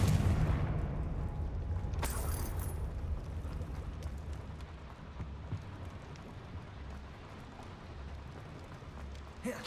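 Confringo blasting spell cast in Hogwarts Legacy, a sharp burst near two seconds over a dense, rumbling battle bed of low booms and game noise, loud and sustained throughout.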